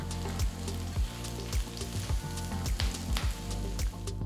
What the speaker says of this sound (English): Saute until the onions turn translucent